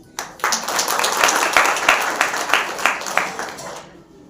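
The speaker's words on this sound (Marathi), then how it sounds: "शिक्षकांसाठी सुद्धा आपण सगळ्यांनी टाळ्या वाजवाव्यात असं मला वाटतं" An audience at a taluka-level science exhibition claps for teachers, rising from a sparse start into steady, moderately loud applause with distinct individual claps before ending abruptly.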